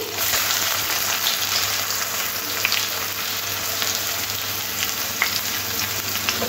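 Chopped onions, three medium ones, fry in oil with whole garam masala, making a loud, dense, continuous sizzle with occasional faint clicks of stirring.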